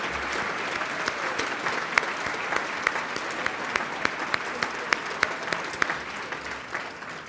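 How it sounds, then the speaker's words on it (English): Sustained applause from an audience at an annual Michigan community awards ceremony, a steady wash of clapping with a few sharper individual claps standing out, moderately loud and continuing throughout without speech. "Let's have one more round of applause"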